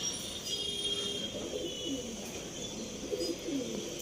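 A male pigeon in a loft of Arsad and Andhra pigeons coos softly in two short low phrases, mid-distance, over a steady hum of background noise with faint high tones.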